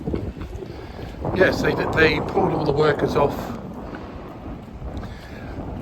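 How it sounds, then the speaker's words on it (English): Outdoor wind buffets the microphone on a Birmingham city street, a rough low rumble swelling and easing throughout while someone talks over it. "Sorry about the wind"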